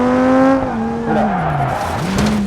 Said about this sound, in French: La voiture a complètement défoncé.